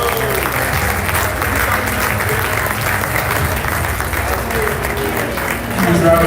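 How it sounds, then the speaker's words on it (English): Audience applause for an award winner at a live awards ceremony: loud, continuous crowd clapping and cheering under amplified music or voices, dense and steady throughout, swelling slightly at the end. "Huge round of applause"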